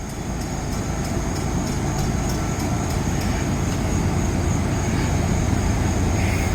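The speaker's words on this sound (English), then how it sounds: "We got a train on the way," A westbound train approaches a level crossing with the gates down, a continuous low rumble and steady broadband roar holding level throughout, with faint repeated ticking above it and no talking.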